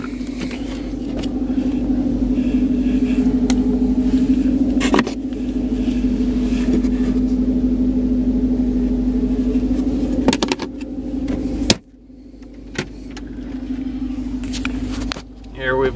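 A 2013 Dodge Charger R/T, a repairable salvage car, starts by remote and settles into a steady low idle rumble for most of the span. The engine cuts out near the end, and a few faint clicks and jingles sit over it.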